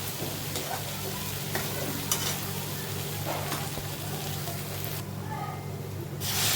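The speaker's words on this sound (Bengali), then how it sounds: "এখন আমি এর ভিতরে গরম জল অ্যাড করব।" Hot water poured into a pan of frying green banana curry, a steady close sizzle with stirring scrapes that swells into a brighter rushing burst near the end.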